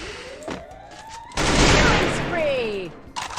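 Gunfire in the Free Fire battle royale game: a dense burst of rapid shots erupts midway and fades, with a voice and other game sounds around it.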